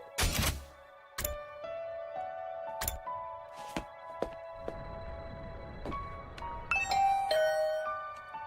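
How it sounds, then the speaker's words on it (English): A doorbell chimes in the game The Hundred Line, ringing tones ringing out and sustaining between a few sharp thuds and knocks, with no voices. "I rang the doorbell and could hear the bell ring on the other side of the door."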